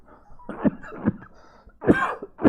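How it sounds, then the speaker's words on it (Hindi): A person coughs several times in short, harsh bursts, close and fairly loud, with quiet pauses between. "देखो मुझे खांसी आ गई,"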